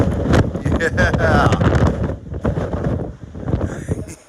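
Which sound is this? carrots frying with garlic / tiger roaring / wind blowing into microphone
wind blowing into microphone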